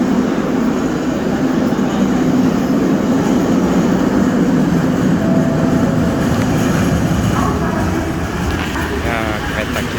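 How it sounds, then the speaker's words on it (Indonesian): An LRT train pulls into a station on the Malaysian line between USJ 7 and SS 15, with a steady, loud rumble of rail noise filling the whole stretch and a faint brake squeal near the end. "Nah, kereta kita guys sudah datang guys."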